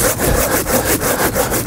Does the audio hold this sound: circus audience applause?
no